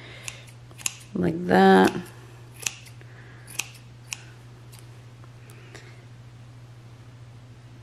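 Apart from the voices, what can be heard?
scissors trimming yarn ends of a crochet toque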